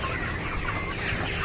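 Chickens cluck steadily at a poultry farm, a dense, moderately loud chorus of overlapping clucks with no talking.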